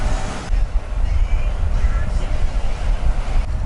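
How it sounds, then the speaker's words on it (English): A sailboat motors under engine power on a flat sea, a steady low engine drone mixed with wind buffeting the microphone and faint water noise, continuous and fairly loud. "No more wind, so we've been motoring for the last hour or so."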